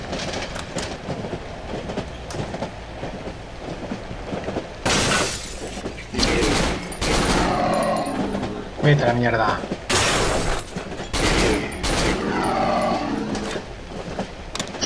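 Loud gunshots ring out in the horror video game Cry of Fear, around five sharp bursts spread over several seconds amid game ambience, with someone speaking between them.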